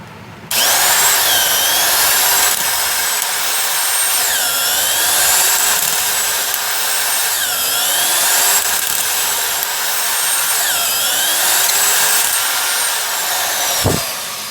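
A vintage Milwaukee Model 8600 tapper drives a 3/8 thread, rated only for 5/16, making a loud, close whining grind with a wavering pitch that rises and falls in repeated cycles, then stops abruptly at the end.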